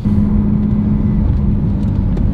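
BMW E36 engine while drifting in the rain, a steady, close droning hum that holds a constant pitch throughout with no clear revving swings.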